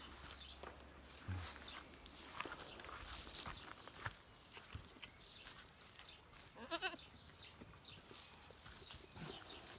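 Three-month-old goats bleat now and then amid shuffling hooves and rustling, with one clear wavering bleat standing out near the end.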